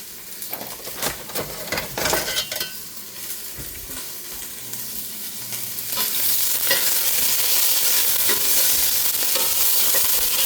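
Fish steak sautéing in a pan with onions and a soy-lemon marinade, a steady close sizzle with stirring scrapes that grows louder and denser halfway through, no talking.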